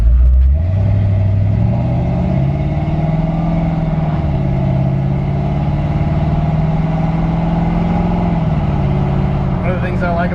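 A 1953 Ford F100 pickup's V8 engine hums steadily from inside the cab while driving, its low drone rising slightly as it accelerates, with a voice faintly present.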